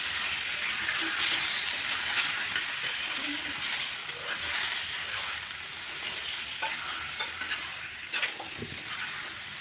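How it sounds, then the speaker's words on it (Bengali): Chicken and onions sizzle steadily in a pan over a medium-high flame for a dhaniya chicken curry, with scraping stir strokes throughout and no talking. "পেঁয়াজের সাথে চিকেনটাকে ভেজে নেবো।"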